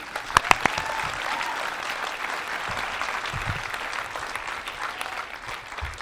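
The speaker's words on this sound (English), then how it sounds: "You can clap." Audience applause after a talk on AI at work, opening with a few sharp individual claps that swell into steady, moderately loud clapping from a crowd and hold evenly to the end.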